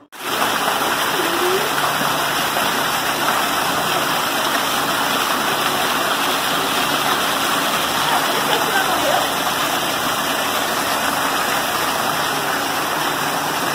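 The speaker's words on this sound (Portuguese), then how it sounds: "Olha a cachoeirinha no planeta que eu tô" Small waterfall in a park in Campo Grande, a steady broadband rush of falling water heard close and loud throughout, with faint background sound under it.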